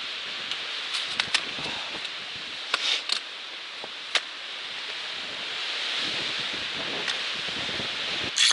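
Steady wind roars across an exposed mountain top in the Chairbacks on the Appalachian Trail's 100 Mile Wilderness, buffeting the microphone with gusts and rustling, no voices, continuous throughout.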